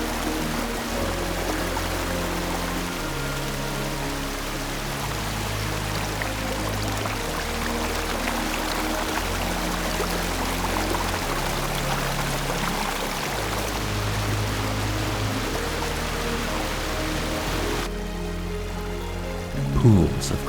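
A waterfall in Shenandoah National Park pours steadily into the valley, a constant full rush of water that continues under background music.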